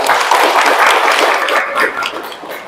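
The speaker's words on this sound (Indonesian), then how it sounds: "tepuk tangan dulu dong buat kita" An audience of teachers and school staff claps at a talk-show style discussion, a loud, dense burst of applause that stays steady and then thins toward the end, with no talk over it.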